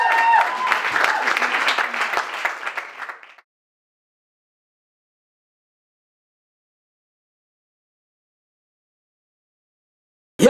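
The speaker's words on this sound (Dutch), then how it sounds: "Dus ook een heel groot applaus alvast voor alle artiesten die zich inzetten" Applause from an audience at a Stichting Ghetto Exposed event, a dense burst of clapping with some crowd noise and faint voices for about three seconds, then it cuts off abruptly into silence, with a short loud burst right at the end.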